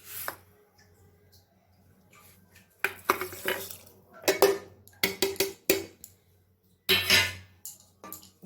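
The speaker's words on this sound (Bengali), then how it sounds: "দিয়ে ভালো করে নাড়াচাড়া করব।" Dal with salt, sugar and turmeric stirred in a cooking pot, heard as irregular clattering scrapes and knocks of a utensil against the pot in bursts between quiet pauses.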